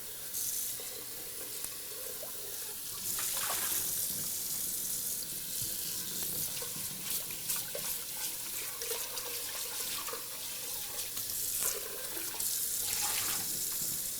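Running tap water rinses a kitchen utensil at a sink during red-bud jelly making, a steady close splashing hiss lasting throughout with brief louder gushes, no talking.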